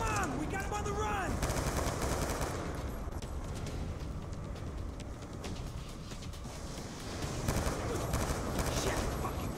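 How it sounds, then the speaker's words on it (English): Turret gunfire in Call of Duty: Black Ops 2, rapid bursts of automatic shots rattling steadily through the whole stretch, loud and dense, with a louder flurry near the end. "turret's got the area locked down"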